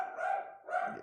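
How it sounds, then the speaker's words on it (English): A dog lets out two quick barks, fairly close and moderately loud, with nothing else audible. "my dogs are so dumb. Can y'all hear that idiot?"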